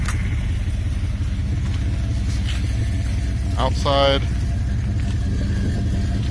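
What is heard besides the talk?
pickup truck engine idling rumble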